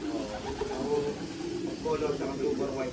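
Soft, low coos from breeding pigeons repeat through a steady murmur of background noise, with a few faint voices nearby.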